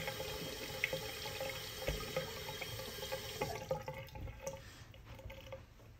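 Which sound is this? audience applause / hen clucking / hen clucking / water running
water running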